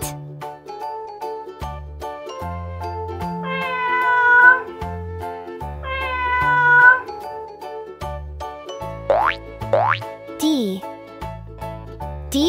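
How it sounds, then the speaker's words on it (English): A cat meows twice in long rising-falling calls over a bouncy children's alphabet tune, followed by short chimes and cartoon sound effects. "C for cat."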